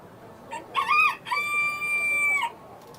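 Chickens at a state fair poultry showmanship event give a short squawk followed by a sustained, strained crow, close and loud against quiet room noise.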